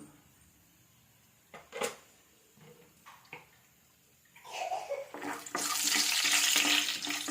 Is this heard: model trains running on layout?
no